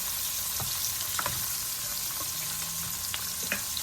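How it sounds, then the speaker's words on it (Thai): Steady hiss of catfish coated in batter sizzling in hot oil in a pan, with occasional sharp pops and crackles scattered throughout, fairly close and continuous. "แต่ก่อนทอด ตั้งน้ำมันให้ร้อน แล้วก็ใส่ แป้งโกกีไปนะฮะ"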